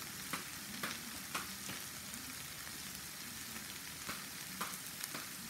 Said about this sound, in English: The onions are sauteed nicely.